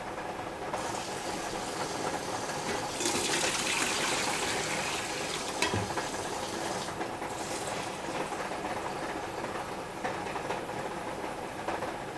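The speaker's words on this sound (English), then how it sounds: "What we do first is we put in 3 quarts of just regular water." Plain water gushes into a pot to make brine for crunchy hot garlic pickles, a continuous splashing pour lasting several seconds with slight swells in intensity and no speech.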